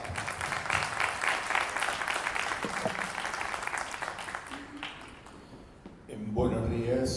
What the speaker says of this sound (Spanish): Así que, por favor, un fuerte aplauso y empezamos.